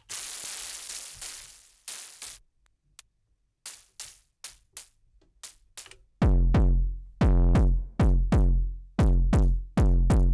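A noise texture from an Elektron Syntakt with sustain turned down plays as a sequence of short, sharp bursts, sparse and clipped at first, then louder, deeper hits that decay quickly in a steady rhythm.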